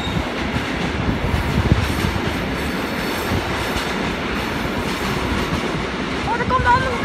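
A goods train pulls in at a platform in Eindhoven station, a steady loud rumble of wheels and wagons running through the whole stretch, with a faint rising squeal near the end.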